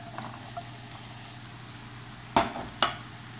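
Mushrooms fry in melted butter in a pan, giving a faint, steady sizzle broken by two sharp utensil clinks near the end.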